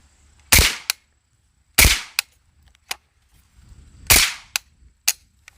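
Three muffled shots from a Galil 7.62x39 AK-type rifle with a Huxwrks Ventum suppressor fire a second or more apart, each followed by a quick metallic clack.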